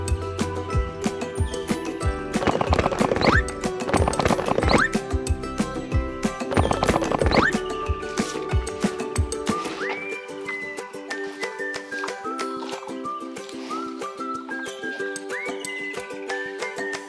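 Horses on a farm at feeding time, with hoof clip-clops and movement up close in the first half, followed by quieter stable ambience and occasional whistle-like tones.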